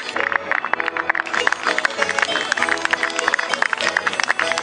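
Audience applause greets a traditional costume parade, steady dense clapping filling the space throughout, with a presenter's voice and background music mixed in.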